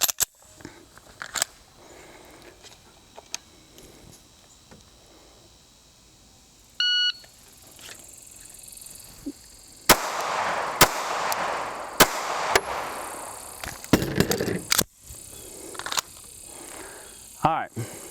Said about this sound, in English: we hit all 3 of our shots on our target, 2 to our plate and 1 to our card